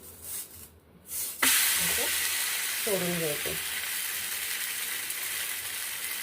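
Sabudana thalipeeth sizzles on a hot oiled tava, a steady close frying hiss that swells suddenly and runs on, with brief clatter and a few spoken words over the start.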